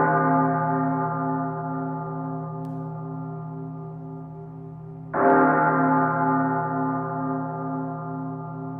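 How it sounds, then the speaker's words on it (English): A temple bell rings from a bell tower in long, sustained tones with a slowly fading hum, and a second clear strike comes about five seconds in, loud and alone. "3 long ringings, followed by 2 short ringings, were heard coming from the bell tower"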